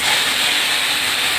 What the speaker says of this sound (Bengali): ওই তেলেই একটা তেজপাতা, একটা শুকনো লঙ্কা ছিঁড়ে দিয়েছি, আর একটা জিরে ফোড়ন দিয়ে নেড়ে কচুর শাকগুলো আমি দেখে ছেড়ে দেবো